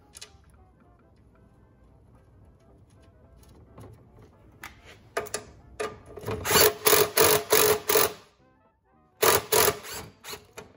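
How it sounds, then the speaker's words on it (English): Impact driver hammering bolts into dirty threads, rapid rattling bursts of impacts in two runs, the first longer and louder, separated by a brief pause after quiet handling at the start. "Might have been a bit aggressive using an impact"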